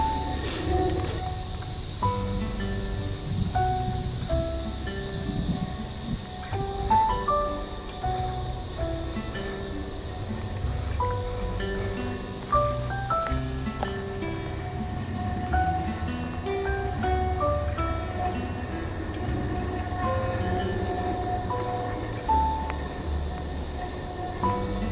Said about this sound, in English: Still hear the train though.